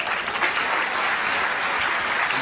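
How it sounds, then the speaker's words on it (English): An audience gives steady, full applause for volunteers heading up on stage at a mental-math show, a dense wash of clapping without a break throughout. "let's give these volunteers a nice round of applause."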